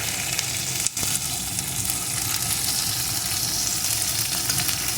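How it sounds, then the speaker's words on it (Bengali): Neem leaves crackle and sizzle in a little hot oil while being stirred constantly, a loud, steady frying hiss with a brief dip near the start and no talk. "এখন আমি নিম পাতাগুলোকে সুন্দর করে ভেজে নেব"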